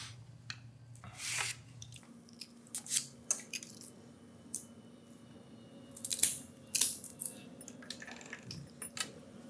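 A cutter snips an E.P. Carrillo Encore Black cigar, giving sparse, quiet clicks and crisp snips over a faint low hum, with a denser cluster of sharp cuts partway through.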